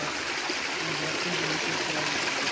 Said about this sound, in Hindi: ज़मीन से पानी आ रहा है और ये देखो ठंडा पानी।